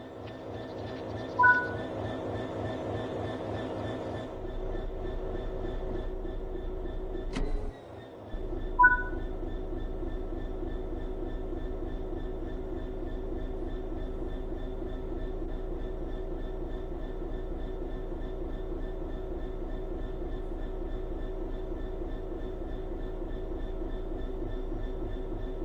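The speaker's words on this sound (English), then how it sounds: "Let's get the train moving and see it all working." A train in the video game Train Sim World 3 rumbles with a steady low engine drone and rhythmic wheel clatter, broken by one brief sharp clunk and short tonal chimes, running on continuously without voices.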